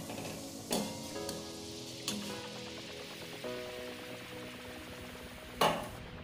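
Nikuti sweets for Bardhaman-style sitabhog sizzle in hot oil over a low gas flame, with a steady close bubbling hiss and occasional louder clinks of a utensil.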